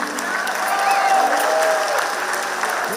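Loud, continuous applause from a cinema audience at a film festival screening, a dense wash of clapping that holds steady from start to end with no voices.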